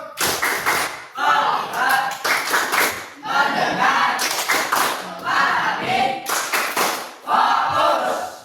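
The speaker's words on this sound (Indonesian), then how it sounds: "Tepuk fokus." A group claps in quick rhythmic bursts while voices chant along in unison, loud and close, repeating the pattern several times.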